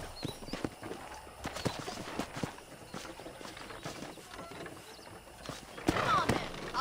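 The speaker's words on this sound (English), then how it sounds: "let's see if you can still ride a horse" Hooves clip-clop at a walking pace as a horse is ridden in Red Dead Redemption, steady close hoofbeats with some tack rattle and a brief voice near the end.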